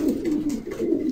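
An Andijan pigeon coos close by, a soft low rolling call repeated twice in quick succession.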